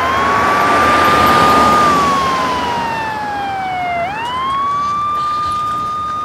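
A loud ambulance siren wails with slow rising and falling sweeps in Istanbul, a second siren tone joining partway through, no voices.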